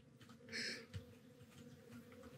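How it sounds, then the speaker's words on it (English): Soft, steady buzzing of bees around a honey hive in the game Kynseed, quiet and close, with one brief brighter hum rising partway through. "This little honey hive, beehive, honey hive."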